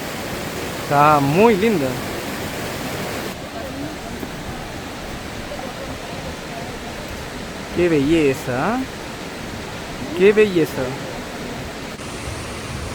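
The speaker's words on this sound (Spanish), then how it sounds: "Una caída de agua de 40 metros y tiene una cueva debajo." A 40-metre waterfall with a cave beneath it, the Dora falls between Chile and Argentina, roars as a steady, close wash of falling water, while people exclaim over it in short bursts of speech.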